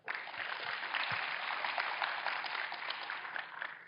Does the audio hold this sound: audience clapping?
yes